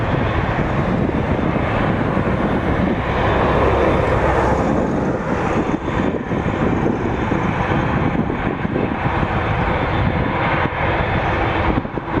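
A jet airliner approaches to land at Toronto Pearson, its engine roar loud, steady and broadband, holding close and constant throughout with no voices.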